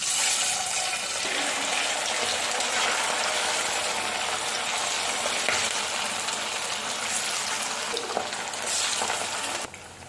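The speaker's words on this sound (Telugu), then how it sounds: "చికెన్ ఇప్పుడు ఫ్రై చేసుకుందాం." Marinated chicken 65 pieces deep-fry in hot oil, a loud, close, unbroken bubbling sizzle that roars steadily before dropping off abruptly at the very end.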